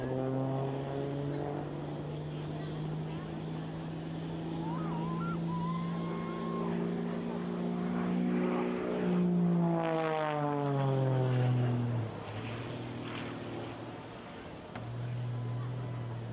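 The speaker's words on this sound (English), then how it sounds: "bringing the aircraft round now, back onto the main A-axis" An Extra 330SC aerobatic plane flies an airshow display, its propeller engine droning loudly, then sweeping down in pitch as it banks and passes, before settling into a steady roar.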